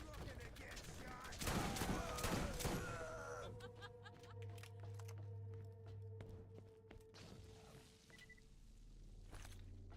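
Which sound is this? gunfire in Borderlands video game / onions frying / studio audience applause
gunfire in Borderlands video game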